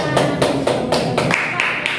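Clapping from a classroom group during a teacher-training practice lesson, sharp claps at a steady rhythm with voices murmuring underneath.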